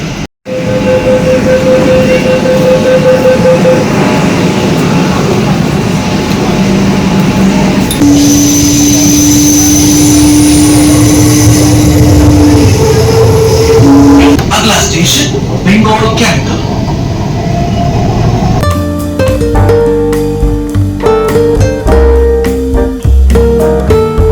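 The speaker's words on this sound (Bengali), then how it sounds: "এই চলে এসছে ট্রেন" A metro train rumbles in with a steady roar and rising whine, brakes squealing briefly as it slows, with people talking amid the loud station noise.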